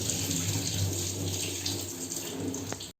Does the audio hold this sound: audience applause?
no